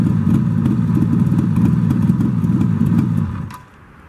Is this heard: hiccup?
no